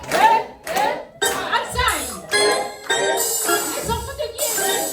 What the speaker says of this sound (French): Applaudissons!